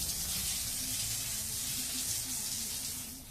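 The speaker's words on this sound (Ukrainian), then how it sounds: "Водичкою зараз все виймиться" Water splashing and rinsing over a wooden dog pallet outdoors, a continuous hissing spray close by with a low background hum, and no voices.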